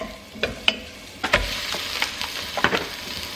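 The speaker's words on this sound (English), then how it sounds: "Mix na natin yung bawang." Garlic and onions sizzle in a pan while a utensil stirs them, with irregular scraping knocks over a steady frying hiss, close and clear.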